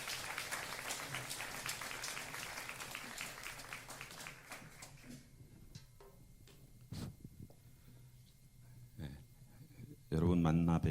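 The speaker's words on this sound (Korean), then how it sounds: "우리 박수를 모시도록 하겠습니다" A church congregation at Sunday worship applauds to welcome a guest speaker, a burst of clapping that fades after about five seconds into quiet room sound with scattered taps, before a voice begins speaking at the end.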